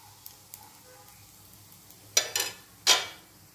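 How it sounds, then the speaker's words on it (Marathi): Besan and green pea vadis fry in hot oil with a faint steady sizzle, broken by a few louder scraping stirs in the pan near the end. "त्याच तेलामध्ये या दुसऱ्या पण वड्या आता परतून घ्यायच्या आहेत."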